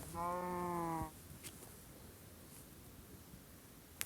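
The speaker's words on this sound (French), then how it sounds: "Un bruit de vache." A cow moos once in a video game, a single loud, clear, tonal low call lasting about a second, followed by quiet background with a few faint clicks.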